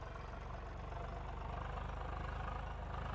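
A tractor engine in Farming Simulator 22, part of an Indian tractors mod, idles with a steady low, throbbing rumble, constant and fairly quiet, with no talking.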